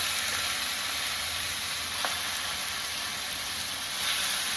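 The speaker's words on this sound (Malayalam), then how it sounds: "ചിക്കൻ ചേർത്ത് വെച്ച് ഇളക്കുക." Chicken sizzles steadily in a pan of curry as it is stirred, giving a soft continuous frying hiss with a faint scrape of the spoon.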